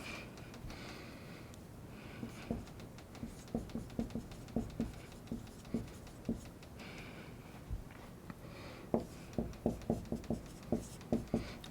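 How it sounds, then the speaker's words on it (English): Marker or pen strokes tapping and scratching across a board while working out an organic chemistry reaction, in short irregular bursts, close and fairly quiet, with no one speaking. "I'm going to write that out just like we did here."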